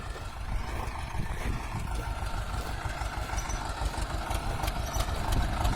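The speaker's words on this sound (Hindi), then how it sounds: "और इनका ये खचड़ पचड़ ट्रैक्टर" An old, rickety farm tractor engine idles close by in a field, a steady low rumble with uneven knocking pulses running unbroken from start to finish.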